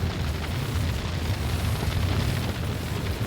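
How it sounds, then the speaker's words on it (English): A video game explosion from Lamplighters League, a sustained rumbling blast with heavy low-end roar that stays loud and dense throughout, with no talk over it. "We're all going to take this explosion now, unfortunately."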